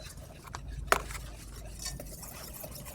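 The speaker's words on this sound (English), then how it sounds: "we're going to quickly stir this with our whisk until all the lumps are gone" A metal whisk stirs a lumpy mixture in a bowl, giving faint scraping and a sharp clink of metal against the dish partway through, then quieter stirring.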